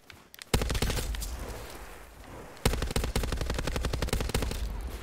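Hostile sentry gun in Call of Duty: Black Ops 4 fires in two sustained automatic bursts of rapid, loud gunfire, the second starting after a brief lull and running to the end.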